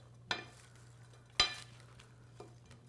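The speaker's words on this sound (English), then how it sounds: "We're just going to give this a nice toss, lightly, because the bowl is really full." Ingredients for a shrimp and scallop burger dish tossed lightly in a very full bowl, giving three soft rustling, clattering bursts spaced about a second apart, with quiet gaps between them.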